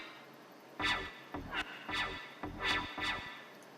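Synth wub bass from Ableton Operator drenched in reverb, four or five pulsing wobble bursts with sweeping tone, fairly quiet with a washy tail between hits.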